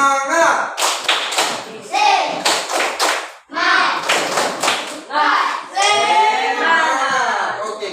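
Students in an Indonesian classroom clap out a quick rhythmic 'tepuk semangat' cheer in bursts, mixed with loud voices chanting together close by.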